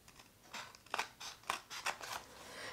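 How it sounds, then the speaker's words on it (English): Scissors trimming a cardstock card base, a series of crisp snipping crunches in an irregular rhythm, close and distinct against a quiet background. "I'm just going to cut it with scissors because we have a cardstock base"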